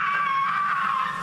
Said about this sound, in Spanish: Gritos, náuseas y lágrimas